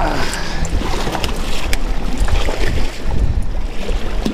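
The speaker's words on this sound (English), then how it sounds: "Sorry about the wind. It's kicked up really bad here." Strong wind gusting across a mountain reservoir while fishing, heard as heavy, continuous rumbling buffeting on the microphone that masks the surroundings, loud and steady for the whole stretch.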